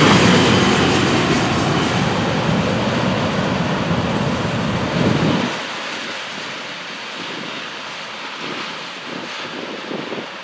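A Florida East Coast freight train rumbles past loudly with a steady roar and wind buffeting for about five seconds, then the sound drops to a fainter clatter of cars rolling away.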